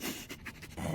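Dog panting in quick, breathy bursts, close and steady over a second of low background noise, with no talk.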